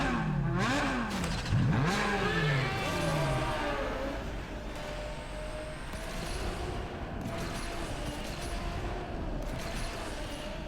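A Porsche 911 GT3 RS engine in a racing video game swoops up and down in pitch through a drift, loud at first and then settling into a steady droning hum with clattering game noise.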